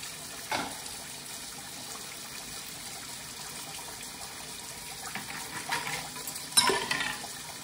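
Dishes being washed and rinsed under running tap water at a sink, a steady faint trickle with soft clinks of crockery and louder splashes near the end, no talking.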